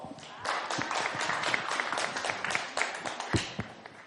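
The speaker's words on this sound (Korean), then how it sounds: "이 얘기 박수로 맞이하겠습니다" An audience at a panel discussion claps in steady, moderately loud applause lasting several seconds, many hands close together with no one speaking over it.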